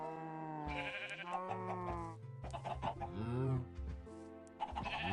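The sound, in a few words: chickens clucking in Minecraft video game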